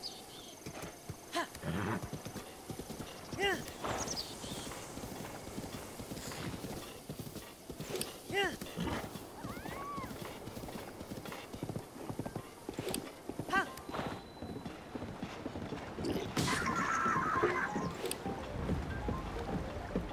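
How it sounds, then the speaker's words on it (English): Horse hooves clip-clop in a steady galloping rhythm in The Legend of Zelda: Breath of the Wild, with wind and water sounds around them and a voice occasionally heard over the top. "Alright, come on, horse."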